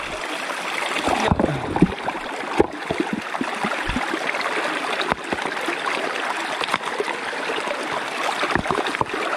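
Water drains out of a fish pond in a steady rushing, gurgling flow, close by, with occasional knocks and splashes over the continuous stream.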